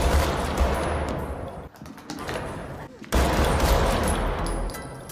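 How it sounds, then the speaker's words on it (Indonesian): Dense gunfire rattles in sustained bursts with brief pauses, loud and chaotic, amid a heavy wash of noise. "tembakan dari Guzek membuat situasi menjadi chaos"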